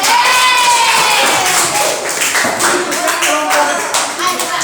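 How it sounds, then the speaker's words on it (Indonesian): A classroom of students clapping for a group of presenters, a loud, dense burst of applause close by, with some chatter and voices mixed under the clapping. "Tepuk tangan untuk kelompok"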